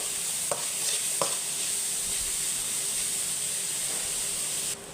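Carrots sauté in a pan for carrot rice, giving a steady, bright hiss of frying with two brief spatula scrapes early on, close and without speech.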